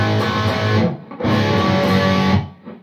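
Distorted electric guitar played loud through a Bogner Helios 100W amp head, two dense sustained strummed chunks separated by a short gap, then fading out, with no talking.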